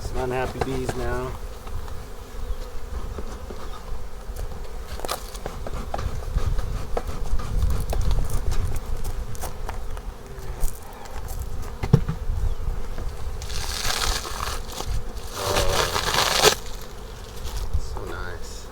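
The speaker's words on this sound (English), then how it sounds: "Some unhappy bees now." Agitated honey bees pour out of an opened hive box in a dense, continuous buzzing drone. The swarm swells louder near the end, with a few small knocks and clatters.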